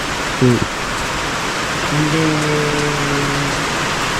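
Heavy rain pours down in a dense, steady roar outside a house, with brief voices rising faintly over the downpour.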